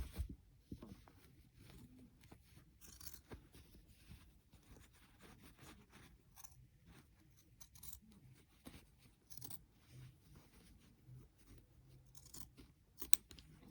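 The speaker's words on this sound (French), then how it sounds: "je coupe le plus près possible de mon point de quilting" Scissors cut through quilt fabric close to the quilting stitch, giving soft, faint snips and light scraping in an irregular series, quiet and close, with no voices.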